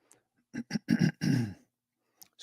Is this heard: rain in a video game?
no